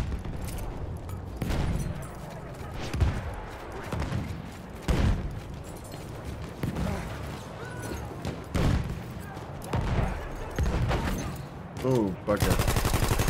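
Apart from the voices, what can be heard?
machine gun firing in the video game Battlefield 1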